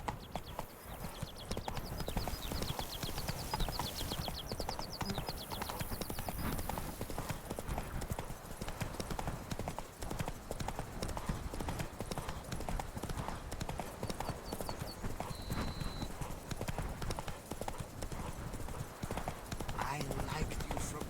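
Roach the horse galloping in The Witcher 3: Blood and Wine, a dense continuous drumming of hooves throughout, with a voice speaking over it.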